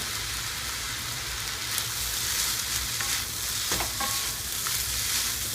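Vegetarian fried rice with a little oyster sauce sizzles and crackles in a pan as it is stirred, a dense steady hiss with occasional scraping clicks, no talk.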